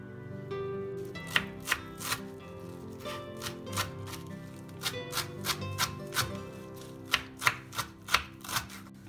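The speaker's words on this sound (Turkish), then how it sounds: "Maydanozlarımızı da incecik doğrayacağız." A knife finely chops parsley on a cutting board for lahmacun filling, close up, with quick repeated taps in uneven bursts and no talking.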